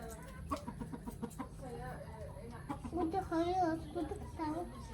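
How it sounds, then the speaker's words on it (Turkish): Chickens and roosters cluck in a busy, repetitive chatter close by, with a longer crowing-like call rising midway over faint background murmur. "Bunlar tavuk mu? Horoz bunlar galiba."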